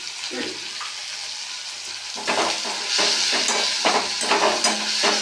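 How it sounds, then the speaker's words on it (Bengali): Chopped garlic, onion, capsicum, tomato and green chili frying together produce a continuous sizzle that swells louder midway, with repeated stirring scrapes against the pan. "একটু ভেজে নিলাম"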